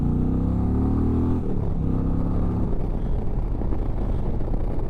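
An Indian Chieftain 112 bagger motorcycle accelerates in sport mode, its engine droning steadily with a tone that shifts as revs rise, loud and close against continuous road and wind noise.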